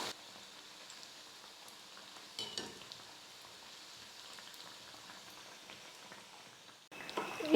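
Bread pieces coated in batter fry in hot oil, a steady soft crackling sizzle running throughout, with a few louder bursts of spitting and a brief stir near the end.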